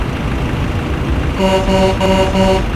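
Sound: truck horn in video game

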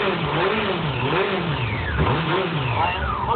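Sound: small moped engine revving

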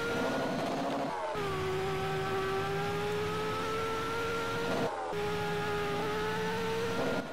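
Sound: car accelerating in Roblox Drag Project Future video game

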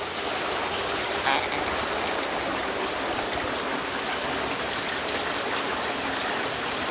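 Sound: heavy rain

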